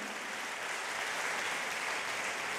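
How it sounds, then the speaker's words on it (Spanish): Steady applause from a church congregation honoring their King during a worship service, a dense, even wash of clapping that holds at a fairly quiet level from start to finish with no voices on top. "Vamos a darle un aplauso a nuestro Rey."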